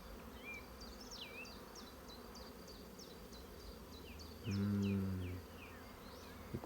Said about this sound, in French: Mister Frelon asiatique. Ça commence déjà à aller sur les ruches.